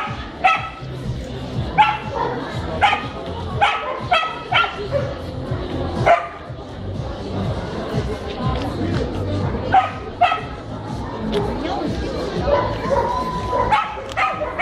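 Dogs at a dog show bark repeatedly, sharp yips and barks scattered near and far over a steady crowd murmur, with people talking throughout.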